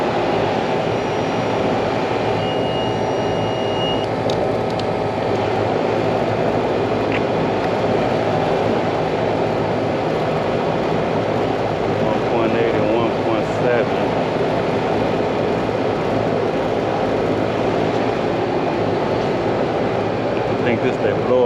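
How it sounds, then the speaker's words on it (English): Blower motor of a Carrier air conditioning unit running steadily with a constant broadband whir and hum, loud and continuous throughout, with a person talking over it. "I think this is that blower motor right here."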